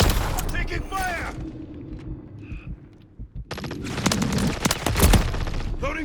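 Gunfire in the game Call of Duty: Modern Warfare 3 rattles out in loud, rapid bursts at the start and again near the end, with a quieter lull between and voices mixed into the action.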